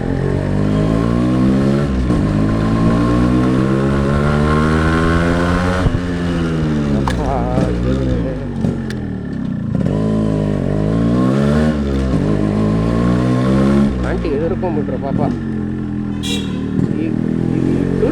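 A Yamaha RX135 four-speed motorcycle is ridden, its two-stroke engine revving up and down through gears in a loud, continuous rasp with rising and falling pitch, and a rider's voice speaks briefly over it.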